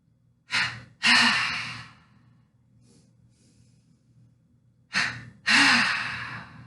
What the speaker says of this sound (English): Listen for the breath.